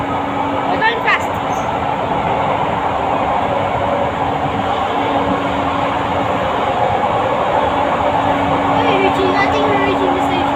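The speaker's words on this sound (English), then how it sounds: "Oh, this is the other train." A passenger train in Indonesia rumbles along at speed, heard from on board as a loud, steady roar with a constant hum, and faint voices talk over it.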